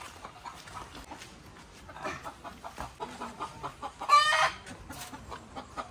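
Hens clucking close by in a backyard flock, a series of short rhythmic clucks and soft cackles with one louder squawking burst near the end, mostly without speech.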